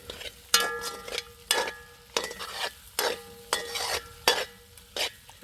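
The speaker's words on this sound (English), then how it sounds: "Then you mix with the Ackee, with the scotch bonnet pepper" Pork and ackee with scotch bonnet pepper being stirred in a pot, a steady run of scraping strokes against the metal over a soft sizzle, repeating roughly every half second and fairly close.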